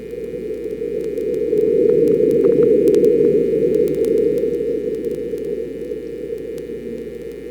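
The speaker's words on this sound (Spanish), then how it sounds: "Ahora el terremoto." A low, rumbling seismic recording from a marsquake: a dull broadband roar that swells and slowly fades, over a steady faint electronic hum.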